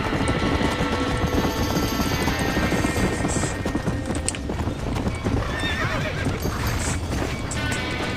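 Horses neigh and gallop with steady clip-clop hoofbeats inside a burning barn in the Red Dead Redemption video game, loud and continuous, with dense overlapping whinnies and commotion throughout.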